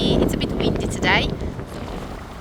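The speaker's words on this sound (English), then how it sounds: "the wind is really loud" Strong wind roars across an open North Wales beach, a loud, gusting broadband rush buffeting the microphone throughout.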